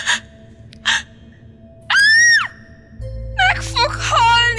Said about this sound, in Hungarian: majd sikított.